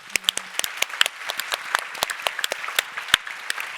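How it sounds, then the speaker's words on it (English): A small conference audience claps for a few seconds, scattered sharp hand claps forming a moderate, uneven round of applause in a room. "So let's give Ihor applause."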